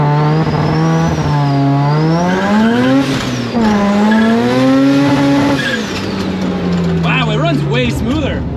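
A rotary-swapped Datsun 1200 with extra boost accelerates hard with wheel spin. The rotary wails loud and close, rising and falling through several pitch sweeps, and tires squeal sharply near the end.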